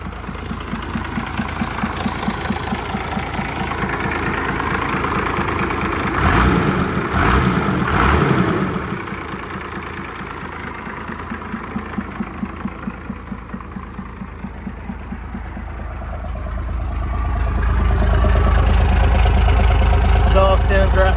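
An old first-generation truck with its engine idling, a steady low rumble with regular firing pulses, while someone talks over it and the idle swells louder toward the end.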